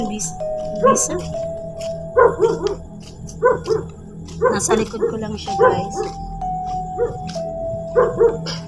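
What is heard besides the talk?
dog barking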